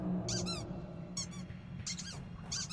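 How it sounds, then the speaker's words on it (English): Creatures in the abandoned metro tunnels of Metro 2033 let out repeated high rubbery squeaks like dog toys, in several quick bursts over a steady low background. "Why do they squeak like dog toys?"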